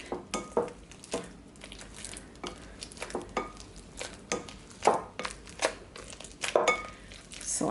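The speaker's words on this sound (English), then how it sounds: "I'm going to add 2 plantains in there. Gonna start mashing it." Plantains being mashed with butter and agave in a bowl for plantain coconut bread, heard as a series of close, irregular thuds and scrapes with no talk.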